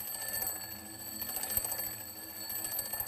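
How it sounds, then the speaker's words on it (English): A ringing alarm clock moves away from the listener, giving off an unbroken buzzing metallic trill with sustained overtones at fairly low volume and no speech over it. "Now listen to the sound as the alarm clock moves away."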